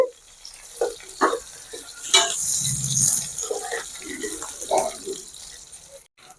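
Chopped onion pieces fry in a pan, making a steady low sizzle broken by a few louder stirring scrapes and bursts of crackle, with no voices.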